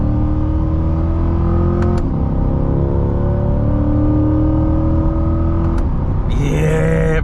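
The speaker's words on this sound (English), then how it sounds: "I'm revving it out, I'm listening to the engine right behind me" A Chevrolet Corvette C8 with a naturally aspirated engine, revved in manual mode: a loud, sustained engine roar with rising and falling pitch sweeps as it climbs through the revs, close and continuous, briefly shifting near the end.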